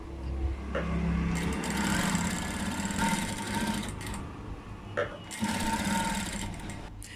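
A sewing machine stitching the neckline of a blouse, steady close mechanical whirring in two long runs with a brief pause between.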